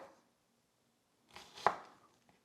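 A knife slices through an onion half on a cutting board, one soft crunching cut ending in a firm tap on the board, close and quiet in an otherwise silent kitchen.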